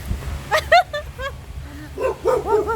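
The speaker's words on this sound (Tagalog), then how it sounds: "May aso." A dog barks in a few short, sharp bursts, fairly close, with voices talking in between.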